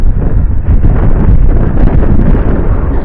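Heavy wind buffeting the microphone of an F196 Sharks optical flow drone outdoors, a loud, continuous low roar and rumble with no pauses, close and dominant for the whole stretch.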